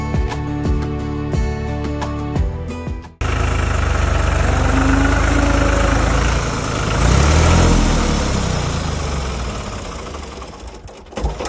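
A tractor engine idles steadily, a loud continuous low rumble with a faint knocking rhythm, preceded by a brief stretch of other sound.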